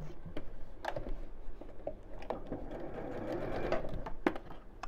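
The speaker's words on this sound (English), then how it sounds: "And then we'll sew straight across there." A sewing machine runs steadily while stitching straight across a drawstring bag, a soft continuous mechanical whir with faint ticking, fairly quiet and close, without talk over it.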